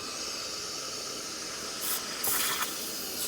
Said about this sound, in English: I actually let a little bit of steam blow as I pull it out